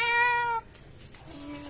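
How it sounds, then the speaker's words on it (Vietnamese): A cat up in an avocado tree gives a loud, drawn-out meow, then after a short pause a fainter, lower meow. "con mèo đang treo cây bơ này"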